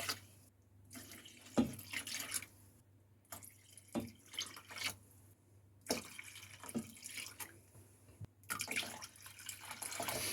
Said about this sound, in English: Next, we'll put in some water.